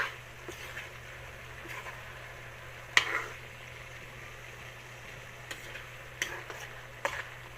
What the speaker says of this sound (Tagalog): So, haluin na natin siya.